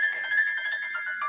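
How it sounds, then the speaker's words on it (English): A phone ringtone plays a short, bright repeating melody for just over a second, clear and alone, with talk nearby in the room. "That's a ringtone if I ever heard one."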